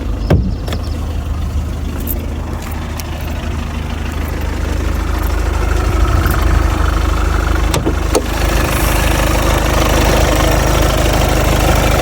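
A 2018 VW Golf's 2.0-litre 110 kW engine idles steadily while warming up, with a low, constant rumble and faint knocking, a few sharp clicks and taps over it, no voices.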